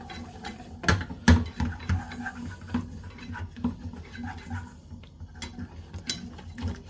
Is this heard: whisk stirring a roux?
yes